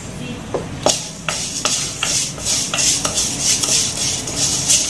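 Roasted vermicelli frying in ghee in a pan for milk payasam, heard as repeated metallic clinks and scrapes of a spoon against the pan over a light background hiss, close and fairly loud, with no speech.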